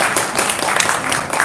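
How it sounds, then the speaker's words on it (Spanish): Crowd applause at a live comedy and philosophy show in Spain, a brief steady burst of many hands clapping filling the whole moment, fairly loud and dense with no pauses. "Un aplauso a Nora, por favor, que nos da cerveza."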